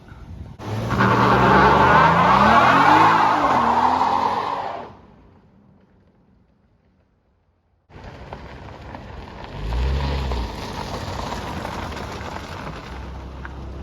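A 2016 Dodge Challenger with a Pentastar V6 doing donuts: a loud, close engine roar with tire spin for about four seconds, a near-silent gap, then a renewed steady rumble with a deeper surge.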